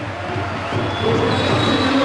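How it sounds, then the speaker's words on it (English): Basketball crowd at a Novara versus Bergamo game roars and cheers steadily in a large arena, a dense wash of noise with no clear voices on top. "The crowd go wild."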